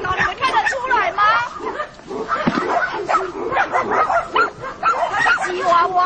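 A Chihuahua at a dog breeding farm barks and yips repeatedly amid overlapping chatter from several people nearby.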